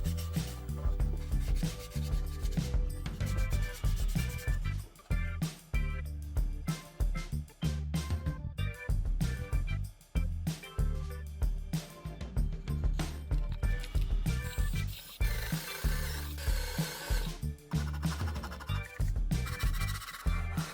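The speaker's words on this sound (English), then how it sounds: "I always follow up by hand sanding with 320 grit sandpaper" Rapid rhythmic scratching and rubbing of 320-grit sandpaper by hand, continuous strokes close up with no talking.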